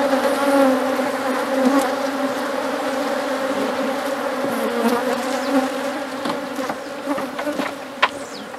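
Honey bees swarm at an opened beehive during a colony split, giving a dense, steady drone at close range with a few sharp taps and knocks over the buzzing.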